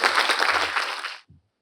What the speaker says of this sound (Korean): 여러분의 큰 박수로 에이럭스 이치현 대표님을 무대로 모시겠습니다